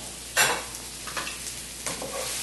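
Chopped onions frying in a pan for ratatouille give a steady close sizzle, broken by a few distinct scraping strokes as they are stirred, with no voices.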